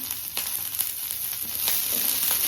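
Onions and chillies sizzling in a hot pan, a close, steady frying hiss with a few soft stirring scrapes and no talk.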